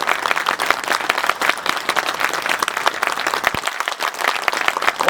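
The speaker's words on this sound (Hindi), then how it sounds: "आप सब लोग 1 मिनट तक लगातार ताली बजाकर कुंवर विजय जी का स्वागत करने का काम करें" Crowd at an Indian political rally applauds steadily to welcome Kunwar Vijay, dense continuous clapping from many hands filling the whole stretch at even loudness.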